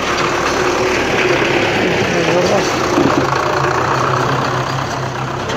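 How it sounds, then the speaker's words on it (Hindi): A Belarus tractor engine idling loudly up close during trolley loading, a steady low rumble with a knocking texture that runs throughout with slight variation. "ये ट्रैक्टर है भाई साहब।"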